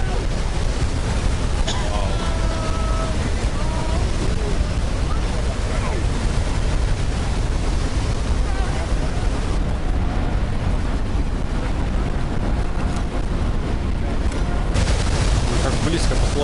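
Niagara Falls roars as a dense, constant broadband rush of falling water, loud and unbroken, with wind buffeting the microphone.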